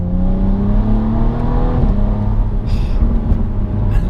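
A 2018 Alpina B4 S engine builds revs under hard acceleration, heard from inside the car as a loud, steady drone that climbs in pitch, drops briefly at a gear change, then climbs again over road noise.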